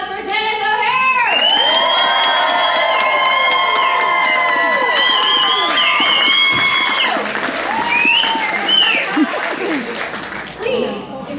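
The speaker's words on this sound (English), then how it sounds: "Big round of applause for Dennis O'Hare!" At the Spooky Empire Summerween convention, a loud crowd cheers, screams and applauds as Dennis O'Hare comes onstage, with high-pitched shrieks and whoops over sustained clapping that continues for several seconds before easing.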